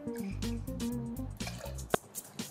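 Lime juice poured into a cocktail being built for a margarita twist, a short liquid pour and drips close by, ending with a few small drops and taps.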